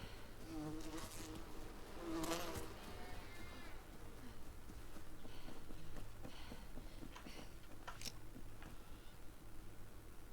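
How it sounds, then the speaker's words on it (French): Bees buzz in the survival game Enshrouded, a faint continuous droning hum with a few passes swelling louder as insects fly close. "Il y a des abeilles."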